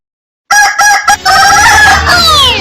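A loud, close rooster crow used as a sound effect in a Mirchi Murga radio jingle on Radio Mirchi 98.3 FM, one full drawn-out cock-a-doodle-doo starting after a brief silence.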